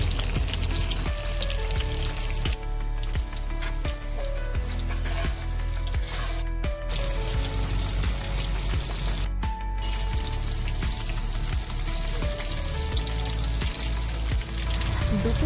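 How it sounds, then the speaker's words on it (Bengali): Breaded vetki fish fillets get a second deep-fry on high flame, a dense, loud, unbroken bubbling sizzle that fills the whole stretch with no pauses and no talking. "ওখানেও আমরা 1 মিনিট মতো ফ্রাই করব হাই ফ্লেমে।"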